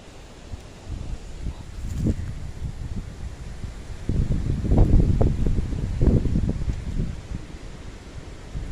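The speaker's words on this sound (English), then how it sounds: "sorry if it's so windy and you can't hear me" Wind gusting outdoors straight into a handheld microphone, a steady low rumbling buffet that swells louder in the second half, with no one speaking.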